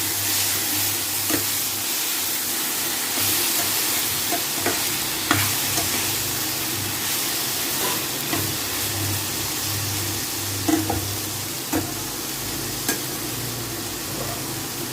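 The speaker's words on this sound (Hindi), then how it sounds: "इस तरह हम इसे हल्का भून लेते हैं। ये देखिए किस तरह भून रहा है।" Yardlong beans (barbatti) lightly frying in a pan give a steady close hiss and sizzle, punctuated by a dozen or so soft spoon taps and scrapes as they are stirred, with no speech.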